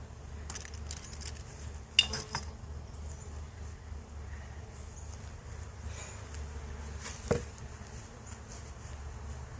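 Honey bees buzzing in an opened backyard hive, a steady soft hum close by with scattered clicks and knocks of hive tools and frames.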